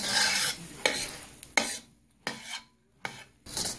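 Rice Krispies treat mixture is stirred in a pan over low heat, a series of about five rough scraping strokes with short quiet gaps between them, close and clear.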